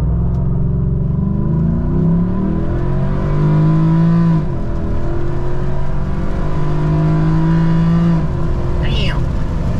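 A tuned Ford F-150 with a 5.0L V8 running on E85 accelerates hard, its engine note climbing steadily through the gears in a loud, continuous roar heard from inside the truck.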